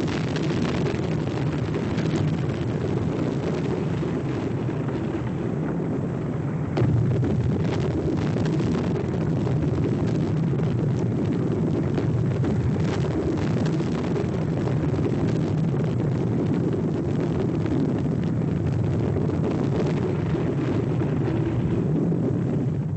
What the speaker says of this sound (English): Compared with the explosions of its parent, its eruptions are still trivial bubblings.